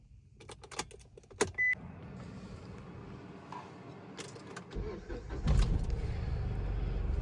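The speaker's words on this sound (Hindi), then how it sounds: "तो चलो गाड़ी को स्टार्ट कर लेते हैं।" Car engine being started during a clutch-control driving lesson, with clicks and key jangles before the starter turns and the engine catches, settling into a steady low idle that grows louder near the end.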